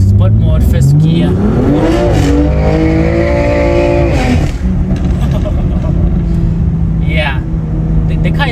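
A BMW M2 Competition accelerates hard in sport mode in first gear, the engine note climbing loudly before a shift and then settling into a lower drone, with someone talking over it.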